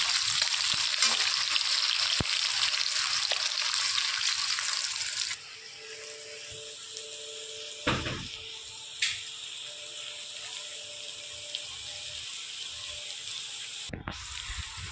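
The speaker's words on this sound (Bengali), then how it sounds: "দিয়ে দেবো আমি গোটা গরম মশলা, দিয়ে দিলাম আমি তেলের ওপরে পেঁয়াজগুলো।" Whole garam masala and onions hit hot oil with a loud sizzle that softens after a few seconds into a steady low fry. Stirring knocks and scrapes follow, and no one speaks.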